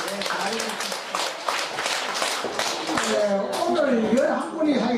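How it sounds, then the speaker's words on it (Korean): Audience clapping after a presentation on stage, a burst of many hands close by early on, thinning out as voices and speech come to the fore. "큰 박수 보내주시기 바랍니다."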